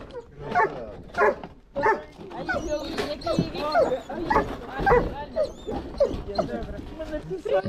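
A dog being evacuated from the Ukrainian frontline barks, yips and whimpers close by in frequent bursts, mixed with people talking nearby.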